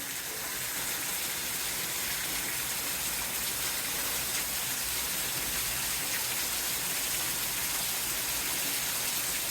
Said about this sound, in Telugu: ఇక వర్షం పడింది